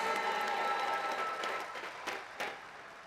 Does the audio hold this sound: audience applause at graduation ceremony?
yes